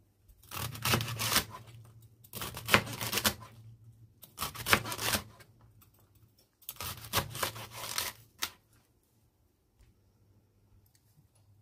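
Celery stalks are cut into slices with a knife, giving several bursts of crisp crunchy chopping separated by short pauses, close and fairly quiet, ending in near silence.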